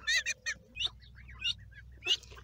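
Several short, high-pitched peeping calls of mallard ducklings come in quick bursts, close by, over a low steady background hum.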